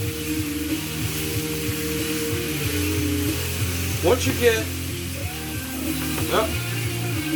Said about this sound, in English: you want to keep hearing that sizzle